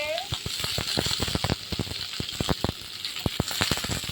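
Vegetables hit a hot wok of oil seasoned with dried red chillies and black cumin, setting off a loud, steady sizzle punctuated by quick scraping clicks of a spatula stirring throughout.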